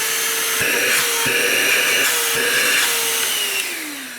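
An Einhell TE-HV 18/06 Li cordless handheld vacuum cleaner runs steadily at close range, its high motor whine loud and continuous, with brief shifts in pitch and a few faint clicks as it is handled.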